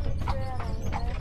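Horse hooves clip-clop in a steady, even rhythm on a hard surface, close by, as a horse pulls a jaunting car in Killarney, with a faint voice underneath.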